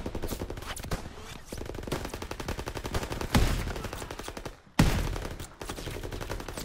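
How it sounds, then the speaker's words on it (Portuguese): Rapid automatic gunfire from the World War II shooter Call of Duty WWII, loud close bursts of machine-gun fire chattering almost continuously with a couple of short gaps between volleys. "eu tô atirando sem ver"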